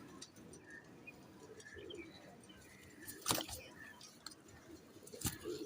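Quiet, low cooing from performance pigeons of the salary teddy breed, with faint chirps and a couple of sharp knocks, heard from a distance with little talk.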